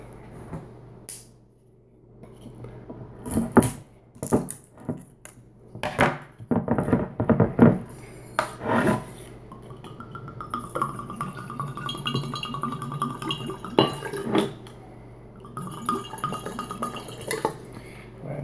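Vodka poured out of a bottle into a container in a kitchen, with glassy clinks and knocks before a longer stretch of gurgling, trickling liquid, close and fairly quiet.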